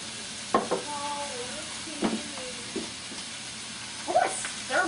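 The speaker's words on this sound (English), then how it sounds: "we're going to go ahead and let the pork continue to cook" Pork frying in a pan, with a steady sizzle broken by several spoon-scrapes and clanks as the meat is stirred, close up and with no voices.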